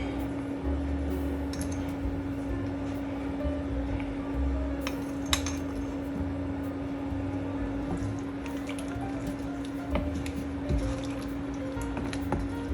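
Potatoes and spices stirred together in a pot of bograch, a Transcarpathian goulash soup, give soft wet scraping and light clinks of a utensil against the pot, steady and close over a constant low hum.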